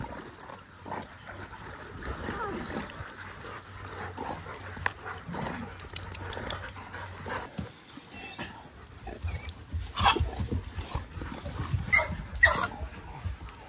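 Dogs play at a rural sanctuary with occasional whimpers and movement sounds, water trickling and splashing, moderately quiet and uneven, growing busier toward the end.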